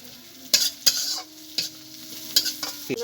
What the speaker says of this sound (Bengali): পেঁয়াজটা ভাজা হয়ে গেছে এখন দিয়ে দেবো রসুন কুচি এখানে আদা কুচি নিয়েছি দিয়ে দেবো কাঁচা লঙ্কা কুচি দিয়ে দেবো